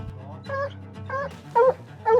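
A dog whimpers during a cat hunt on a Utah mountain, giving several short high whining yelps in a row, close by over a low rumble.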